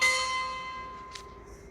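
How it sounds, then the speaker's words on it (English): A school bell chimes for lunchtime in the Twisted Wonderland video game, one clear bell strike at the start whose bright ringing tone slowly fades away, with no talking. "Ah, that's the bell. It must be lunchtime."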